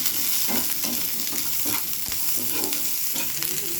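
Onion and capsicum are stir-fried in a pan with ginger paste and chili, a loud continuous sizzle with a spatula scraping and tossing in quick repeated strokes.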